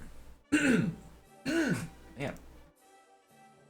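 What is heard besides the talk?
throat clearing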